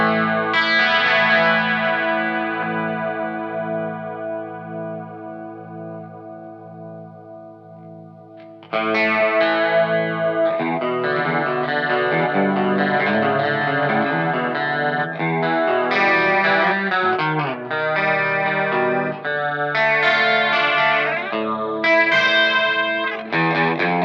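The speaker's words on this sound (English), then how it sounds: "Next, we've got chorus." Electric guitar through a Positive Grid Spark practice amp with a chorus effect, a sustained ringing chord fading out, then busier strummed and picked chords with a shimmering, slightly distorted tone, loud and alone.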